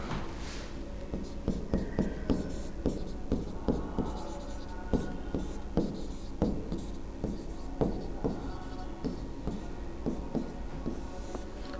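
Pen or chalk writing during a Hindi grammar lesson, a steady series of short scratchy strokes and taps in an irregular rhythm, close and fairly quiet, with no talking.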